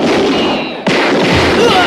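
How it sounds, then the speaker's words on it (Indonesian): Gunfire in a film shootout scene sounds as dense, loud bursts that fill the whole clip, broken by a short dip before another sharp blast kicks in and the clamor continues. "Baku tembak dan kejar-kejaran pun terjadi"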